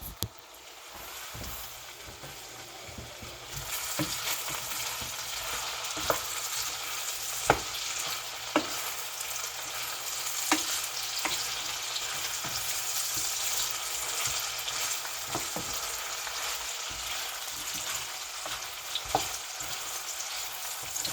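Apples frying in margarine and olive oil hiss with a steady sizzle throughout, broken by scattered sharp clacks and scrapes of a utensil stirring the pan, with no voices.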